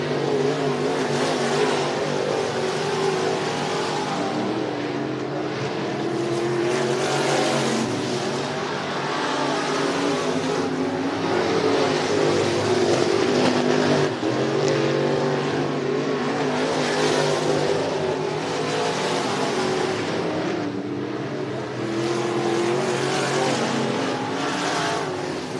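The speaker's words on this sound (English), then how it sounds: "Final group of qualifying is down and away for the IMCA Modifieds." IMCA Modified race cars qualifying at Cottage Grove Speedway, engines roaring loud and continuous with repeated surges as cars accelerate and pass around the track.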